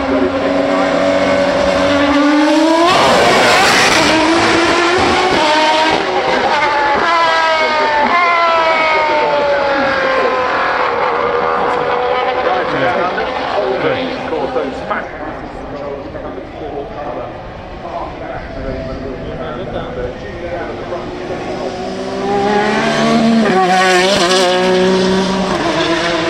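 Turbocharged race car engines roar continuously with rising and falling pitch sweeps as cars speed past, loud and close, under a commentator's excited voice, at the Goodwood Festival of Speed.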